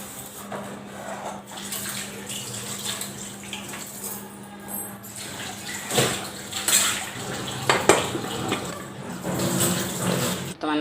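Dishes, pots and utensils are washed at a household sink under a running tap, with water splashing and gushing steadily and occasional clinks and clatters of utensils, close by.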